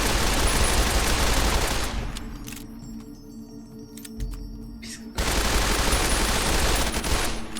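A very fast-firing weapon in Fallout New Vegas lets loose long, loud streams of rapid automatic fire, breaking off for a few seconds of quieter clinks before the roaring stream resumes.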